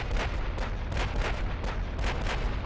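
Naval artillery in the Ultimate Admiral: Dreadnoughts battleship game, a dense roar of heavy gunfire with repeated booming salvos over a constant rumble.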